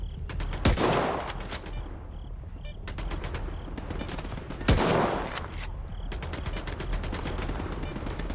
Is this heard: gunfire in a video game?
yes